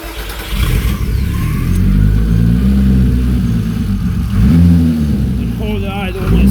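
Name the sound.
Toyota MR2 VR6 turbo engine starting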